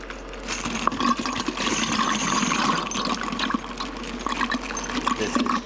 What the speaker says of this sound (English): This is just water and Frankfurt Arsenal brass cleaning solution.